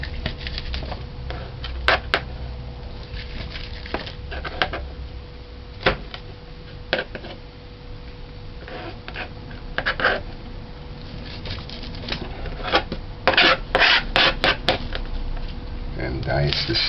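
Garlic cloves are mashed in a kitchen with a run of sharp, irregular taps and knocks, scattered at first and then a quick cluster near the end, all close and crisp over a low hum.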